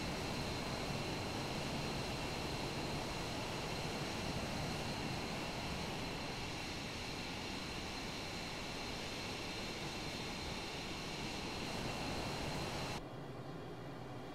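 A steady, loud jet roar from an F-22A Raptor fighter on landing approach in Microsoft Flight Simulator 2020, a dense continuous engine whine and rush that holds evenly before cutting off sharply near the end.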